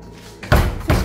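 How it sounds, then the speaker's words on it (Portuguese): A bedroom door shut at night, two heavy thuds about half a second apart, loud and close, with no speech over them. "Fecha a porta logo."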